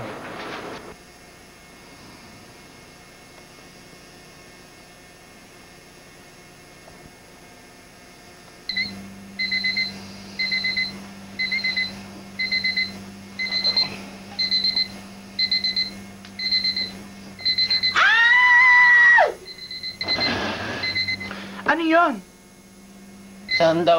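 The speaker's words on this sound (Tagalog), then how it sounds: "Sino ba nag-set ng alarm clock?" An alarm clock rings in repeated rapid bursts of high electronic beeping, loud and close in an indoor setting, followed by louder clattering and other sounds near the end, with faint background noise throughout.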